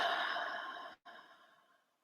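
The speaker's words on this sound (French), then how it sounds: "on prend 3 belles respirations profondes avec le sourire aux lèvres" A person takes a slow, deep breath, a soft airy inhale and exhale heard up close, with a brief pause partway through before the breath trails off quietly.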